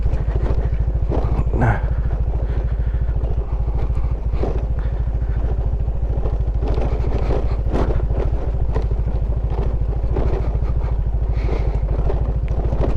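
Motorcycle ride over a rough, rocky trail: a steady, close engine drone runs throughout, with clattering jolts and wind buffeting on the microphone.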